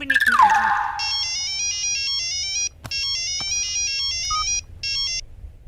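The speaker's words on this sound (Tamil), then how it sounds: "அவருக்கு போனை போடுறேன்." A telephone ringtone plays as a call is placed in a Tamil romance film scene, a loud repeating electronic melody in several bursts with short pauses, following a brief opening sound.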